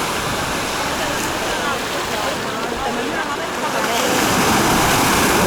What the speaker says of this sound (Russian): Ну, волна действительно огромная.